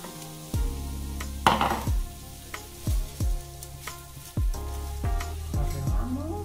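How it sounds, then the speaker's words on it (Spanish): Chopped onion stirred into garlic in a hot pan, with a steady sizzle of frying broken by repeated clanks of a utensil against the pan. "Añadimos la cebolla picadita y lo mezclamos con el ajo"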